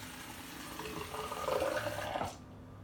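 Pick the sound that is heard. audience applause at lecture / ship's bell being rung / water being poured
water being poured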